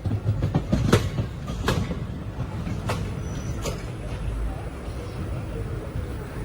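A passenger train rolls into Guntur Junction with steady rumbling wheel noise, a few sharp clanks and squeals from the rails, and voices talking nearby.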